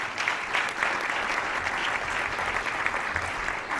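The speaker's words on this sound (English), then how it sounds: "How about a round of applause for our speaker today?" Steady applause from a luncheon audience at the National Press Club, dense clapping held at an even level throughout with no voices over it.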